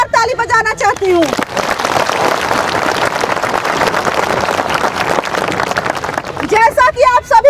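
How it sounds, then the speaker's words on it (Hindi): Rally audience applauding loudly and steadily for several seconds, a dense wash of clapping between stretches of a voice over a microphone at the start and end. "इसीलिए मैं आप सभी के लिए जोरदार ताली बजाना चाहती हूँ।"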